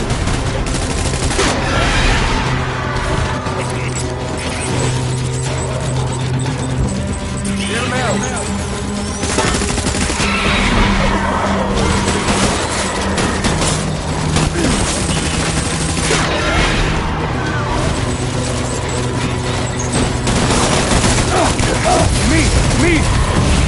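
Heavy gunfire in the Death Stranding video game on PS5 crackles continuously as dense, overlapping shots and bursts, with booms and crashes mixed in and voices shouting over the loud battle noise.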